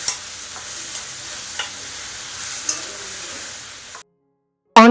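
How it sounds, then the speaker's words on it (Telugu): Chopped onions with salt fry gently in a pan, giving a soft steady sizzle with a few stirring clicks. The sound cuts to silence near the end before a brief different noise. "ఈ ఆనియన్స్ లో ఉప్పు వేసుకొని అవి గోల్డెన్ బ్రౌన్ కలర్ వచ్చేంత వరకు ఫ్రై చేసుకోవాలి."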